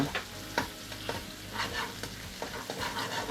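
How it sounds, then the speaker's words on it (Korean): Green onion stir-fried in a pan for jjamppong ramen, a constant soft sizzle with regular spatula scrapes and taps, heard close and without talk. "팬에다가 대파를 넣고 볶아주세요 타지 않게 파기름이 나게끔"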